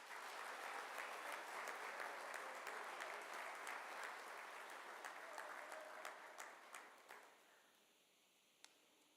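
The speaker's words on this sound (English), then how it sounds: "so let's give him a round of applause." Audience applause at a senior awards ceremony, a dense sustained wash of many hands clapping for several seconds before thinning out into scattered claps and fading to near silence.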